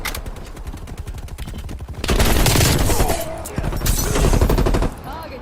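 Sniper rifle fire from Call of Duty Black Ops Cold War cracks over game action, then dense bursts of gunfire and a heavy barrage fill the scene, loud and close, with faint in-game voices underneath.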